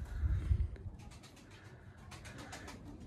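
Pigeons, including young squabs being given feed, coo softly in a low murmur, with faint rustling and light ticking sounds behind them, fairly close and quiet.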